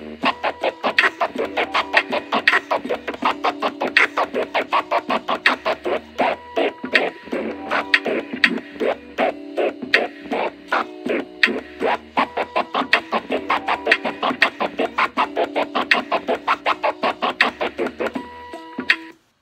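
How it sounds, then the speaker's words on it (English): A DJ performs clean, straight-timed transformer scratches on a turntable over a beat, making rapid rhythmic chopped stutters that run steadily and loudly for about nineteen seconds without talk. "straight timed clean transform sounds which sound something like this"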